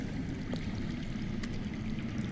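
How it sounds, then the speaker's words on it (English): Underground water flowing in a Game of Thrones video game, a steady low rushing and gurgling stream that continues evenly throughout at moderate level, without speech. "That's water. I hear water. From underground."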